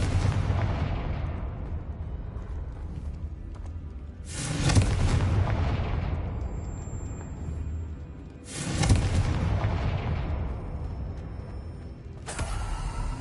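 Blasting-curse explosions from the Hogwarts Legacy video game: three big booming blasts about four seconds apart, each one rumbling and creaking as it fades, with no speech.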